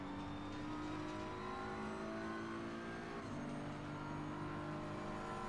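BMW race car in a racing video game at Monza, its engine droning loudly and steadily throughout, with the pitch holding mostly level and a brief drop as it shifts gear partway through.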